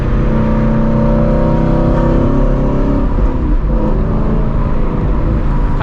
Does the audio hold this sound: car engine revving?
yes